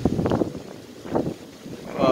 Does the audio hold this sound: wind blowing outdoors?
yes